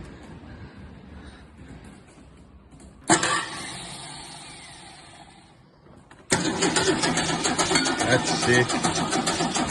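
Holden LC Torana engine cranking over on its starter, then catching and starting at about six seconds into a loud, steady rough idle; a person speaks briefly over the cranking.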